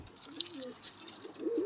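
Pigeons coo softly in a few low, rounded phrases, with faint higher chirps from other birds in the background and no talking.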